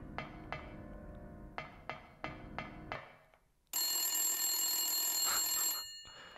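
An old-style telephone bell rings inside the Silent Hill video game at Midwich Elementary School. It gives several sharp rings, pauses, then lets out a long shrill continuous ring before cutting off.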